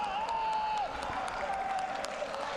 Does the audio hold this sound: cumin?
no